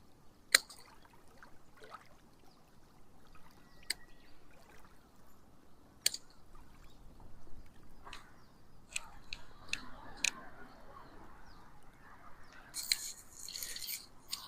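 Pruning shears snip back blackberry canes in a backyard, giving sharp isolated clicks scattered over about fifteen seconds against quiet outdoor rustling.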